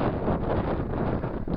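Strong wind buffets the microphone on an exposed Scottish hilltop near Kinpurney Tower, a steady, loud broadband roar with gusty swells throughout and no voices.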